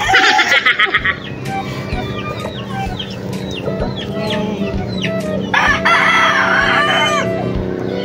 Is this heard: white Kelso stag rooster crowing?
yes